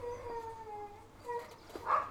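Pet huskies howling indoors, drawn-out wavering howls rising and falling at moderate distance, fairly faint, with a brief yelp near the end.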